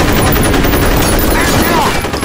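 Rapid automatic gunfire from a firefight in the shooter game FEAR, loud and dense, a continuous stream of shots for a couple of seconds.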